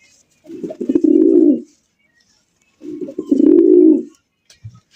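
Fancy pigeons, racer and Giribaz breeds kept in a loft, give two loud, close, throaty coos a couple of seconds apart, each a rolling low call, with quiet between and no talking.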